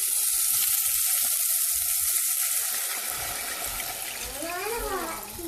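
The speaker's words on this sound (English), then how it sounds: "we're going to go ahead and add 2 cups of the coconut water" Coconut water poured into a hot pan of browned butter while white rice is made erupts into a loud, broad sizzling hiss that settles into steady bubbling and sputtering.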